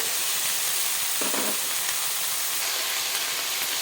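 Freshly washed shish palong spinach hits a hot pan with tomato and slit green chillies, producing a steady, loud broadband sizzle and hiss that holds evenly throughout.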